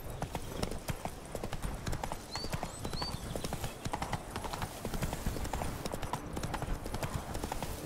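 A horse in The Witcher 3: Wild Hunt – Blood and Wine gallops with quick, rhythmic clip-clop hoofbeats on firm ground, close and continuous, with faint birdlike chirps over it.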